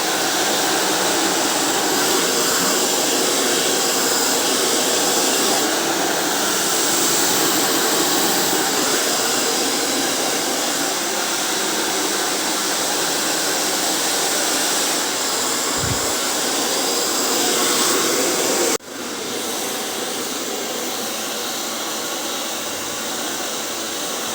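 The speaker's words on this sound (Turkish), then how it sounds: "fön makinesiyle biraz kuruttuktan sonra" A hair dryer blows in a continuous loud roaring whoosh while curly hair is blow-dried with a brush, holding steady throughout with a brief dip partway, no voices.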